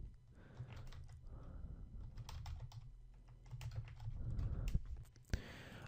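Close keys clatter in quick bursts on a computer keyboard as text is typed, with a short pause partway through and a sharper click near the end.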